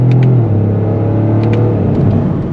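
A 2025 Toyota GR Corolla with a torque-converter automatic accelerating hard, its engine a loud steady drone from inside the cabin with brief shifts breaking the pitch, no talking.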